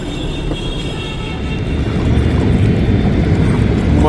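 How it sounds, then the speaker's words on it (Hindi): Loud, continuous rumble of a train crossing a bridge overhead at the Triveni Sangam in Prayagraj during the Maha Kumbh, growing heavier over the last couple of seconds with no pause. "ट्रेन जब इस पर से जाती है बहुत तेज शोर करती है"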